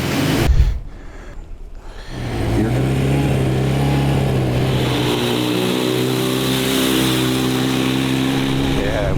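A motorcycle bought at an estate auction idles steadily on a test ride after repairs, a continuous mid-pitched engine drone close by following a brief louder burst at the start.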